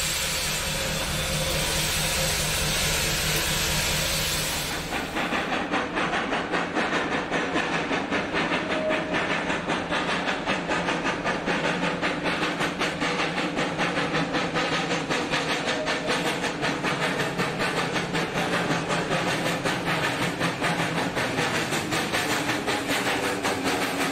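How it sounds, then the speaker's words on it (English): Old standard gauge steam locomotive running, a loud hissing burst at first, then a steady rumbling chuff with rhythmic clatter, continuous and fairly near. "Sit back and enjoy one of the oldest operating standard gauge locomotives in the U.S."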